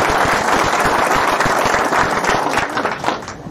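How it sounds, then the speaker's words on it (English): A crowd at a political rally in Alpena, Michigan claps in a dense, steady round of applause that holds for several seconds and then thins slightly toward the end. "give her a round of applause."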